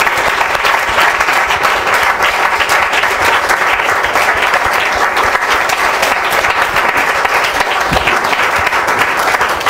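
A church congregation applauds and cheers for the Lord, a dense, loud, steady wash of clapping that fills the whole stretch.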